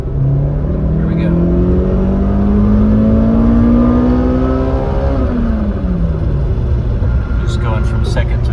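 A stock 2005 Toyota Corolla XRS engine accelerates hard from inside the cabin, rising in pitch through the gears from second to fifth with audible drops at each shift, loud and steady over road noise.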